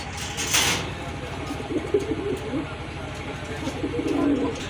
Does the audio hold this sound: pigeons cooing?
yes